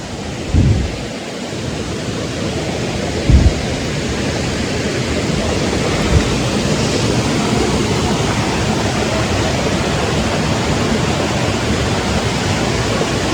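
A village waterfall in the Konkan region fills the scene with a loud, steady roar of rushing water, with a few low thumps near the start.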